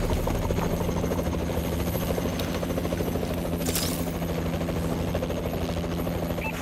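A Warbird support aircraft in Call of Duty: Advanced Warfare hovers overhead with a continuous, loud, rotor-like drone and whine that holds steady throughout, with no talking.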